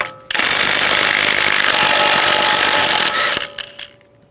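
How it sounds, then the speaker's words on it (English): Power tool on a 2011-2018 Ram 1500 front axle, running a 36mm socket to pull off the axle nut: one loud, close, rattling impact burst of about three seconds that then stops. "take the axle nut off."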